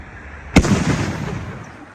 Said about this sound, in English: He threw a firework at someone